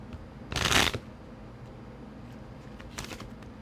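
Tarot cards being shuffled nearby, one crisp riffling burst followed a couple of seconds later by a shorter, softer riffle in a quiet room.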